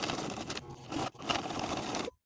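A sewing machine runs steadily while edge stitching the short ends of a welt on a lined vest, a close, continuous whirring hum with a short dip midway before it stops.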